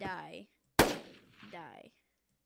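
Modded guns fire in Minecraft: two loud, sharp gunshot blasts about two seconds apart, with a voice exclaiming between them.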